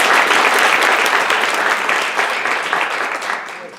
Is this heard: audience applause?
yes